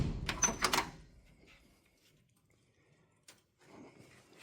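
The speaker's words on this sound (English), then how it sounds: "This door still shuts really nice." A solid thud with a short metallic rattle as the door of a classic International C100 short bed fleetside truck swings shut, followed by quiet and a faint click.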